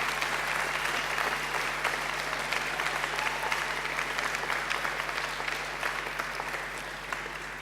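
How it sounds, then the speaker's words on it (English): Graduates at a graduation ceremony give a sustained round of applause to their families and friends, a broad, even clatter of many hands in a large hall, slowly tapering off. "And now I invite you to give them a mighty round of applause."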